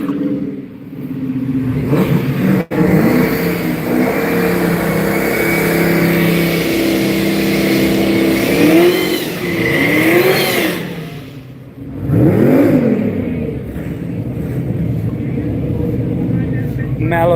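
A 5.0 Ford Mustang drag car engine revs at a drag strip in Gainesville, Florida, rising and falling in several sustained surges under a commentator's ongoing talk.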